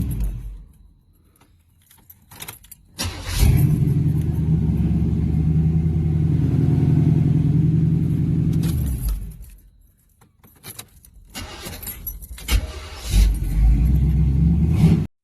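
A 1979 Pontiac Grand Prix, a late-70s personal luxury coupe, cranks and fires up, then settles into a steady, loud, close rumbling idle for several seconds, with keys jangling and a brief pause before the engine runs again.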